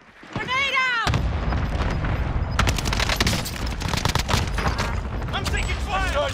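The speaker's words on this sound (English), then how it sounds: "I'm taking fire!" Video-game firefight with heavy gunfire and a grenade explosion: a sustained barrage of loud, rapid shots and booms, with voices talking over it.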